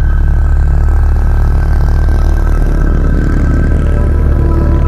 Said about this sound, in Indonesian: Motor pada kencang gitu.